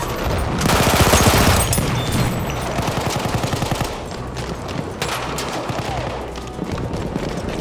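Rapid bursts of automatic gunfire in a team-based video game shooter, dense and loud with sustained rattling volleys throughout.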